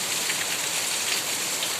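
Heavy rain falls in a dense, steady hiss that stays even and loud throughout, with no voices.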